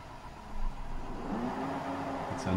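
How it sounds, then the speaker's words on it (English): A John Deere 6/16 tractor runs with a Del Morino XRM235 finisher mower on a three-point linkage with a belt-driven cast iron gearbox, giving a steady low engine drone at moderate distance that swells slightly. "Got it on our John Deere 6/16 tractor."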